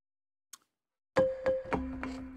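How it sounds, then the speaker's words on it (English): Balafon sample played on a Rob Papen BLADE-2 synth: four bright wooden mallet strikes with ringing pitched tails, preceded by a faint tick, close and clean with no talk. "So that's the balafon."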